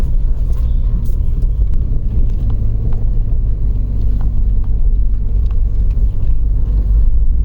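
Jeep XJ driving through deep snow ruts, a steady close engine rumble with heavy low-end drone and wind buffeting on the microphone, continuous throughout with no pauses.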